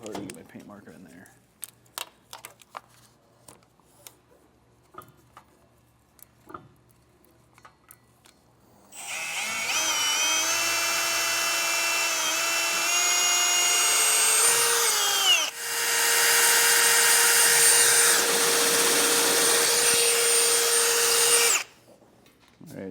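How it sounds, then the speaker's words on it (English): Power drill boring through steel during a Roadmaster base plate install on a 2025 Ram truck, a loud sustained high whine with a brief pause and restart, after quieter handling noises and talk. "So right now I'm drilling through to that other hole"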